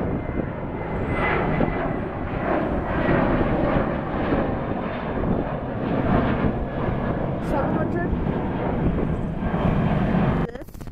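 A propeller airplane drones loudly overhead at Detroit Metro Airport for several seconds, steady and close, then cuts off abruptly at the end.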